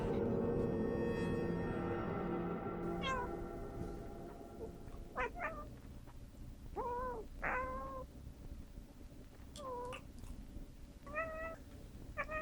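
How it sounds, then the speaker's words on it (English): A cat mews repeatedly in short plaintive cries, fairly faint over a low background hum, following a dense sustained tone at the start. "It sounded like the mewling of a cat."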